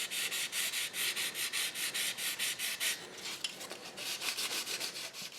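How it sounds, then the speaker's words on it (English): Wet sanding of a Corgi Thornycroft model bus with 400 grit sandpaper makes close, rhythmic rubbing strokes, quick back-and-forth scrapes repeating evenly with a brief pause partway through. "Wet sanding with some 400 grit sandpaper will prepare the surface for the new paint."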